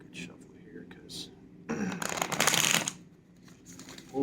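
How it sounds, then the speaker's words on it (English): Cards riffle and shuffle in soft bursts, building to a louder papery flutter midway, with faint background noise around it. "Just give it a good shuffle here"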